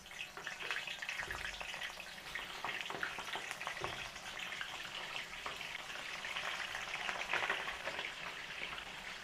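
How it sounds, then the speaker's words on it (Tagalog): Embutido, a Filipino meat roll, frying in hot cooking oil in a pan, giving a continuous close sizzle and crackle at a steady level. "Nag-init po ako ng mantika dito at sasalang naman natin yung ating prito natin yung ating embutido"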